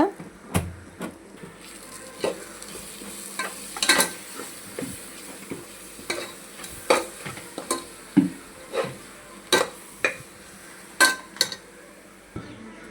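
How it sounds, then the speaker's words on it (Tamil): Curry masala being stirred into a veg biryani base in a cooking pan, with repeated sharp scraping and clinking strokes of a utensil against the pan, irregular and close, over a faint sizzle. "அடுத்து நான் கறி மசாலா போடுறேன். இப்போ நல்லா கிண்டிக்கிடுங்க."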